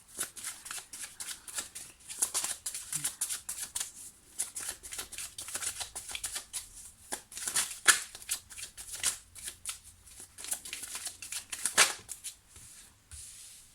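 Tarot cards are shuffled continuously for several seconds, a close, crisp run of rapid riffling and flicking bursts with no talking over it.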